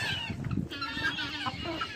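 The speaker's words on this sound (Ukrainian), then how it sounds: "ось ця ось півник трубить, старенький" Chickens cluck and an old rooster calls out in a busy coop, several overlapping bird voices close by with steady background noise.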